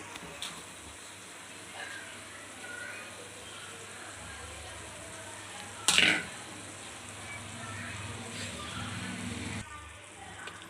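A ground paste of garlic, dried red chilli and curry leaves fries gently over low heat for garlic chilli chicken, making a soft, low sizzle with a sharp clatter midway and faint background voices.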